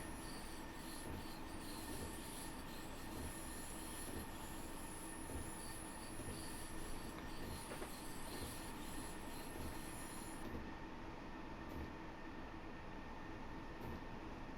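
A train in a simulator game runs on the Munich–Garmisch-Partenkirchen line, giving a steady, loud rolling rumble with a continuous high wheel squeal throughout and no talking.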